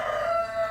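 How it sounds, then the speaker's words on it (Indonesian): A rooster crowing outdoors, one sustained, clear crow held through the short clip with a steady tone, fairly loud with no talking. "suara ayam dan burungnya namanya juga alami"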